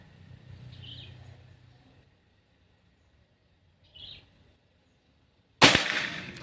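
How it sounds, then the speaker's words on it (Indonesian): A single sharp, loud crack from a Pajero Gun Gen 6 PCP air rifle near the end, with a pellet-like ring after it, following quiet stretches with faint bird chirps in the background. "Tembakan keempat"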